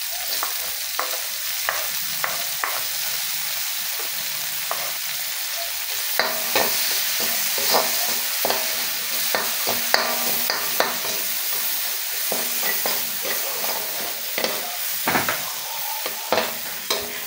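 Sliced onions sautéing in a pan after garlic, for a pork and moringa fruit dish: a loud, continuous sizzle broken by frequent scraping strokes of a spoon.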